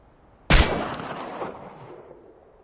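A single sharp, loud pistol shot fired at a target range in the game Chernobylite, followed by a long echoing tail that decays over about two seconds.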